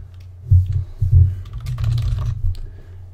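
A name is typed on a computer keyboard in a few quick clusters of key clicks with brief pauses, close and clear with no voices.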